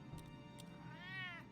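A cat meows once inside the Batman Telltale Series video game, a short clear rising-falling call over a quiet background hum.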